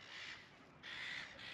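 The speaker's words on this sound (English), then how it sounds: "amongst the noisy seagulls for the ferry to arrive" Harsh, raspy seagull calls in two drawn-out bursts against a steady outdoor wash, fairly faint and distant, at a ferry terminal.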